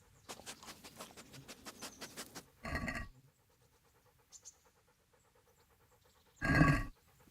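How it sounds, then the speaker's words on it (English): A dog in Kingdom Come: Deliverance panting rapidly in a steady rhythm close by, followed by a couple of louder breathy bursts separated by quiet. "There's the good doggy."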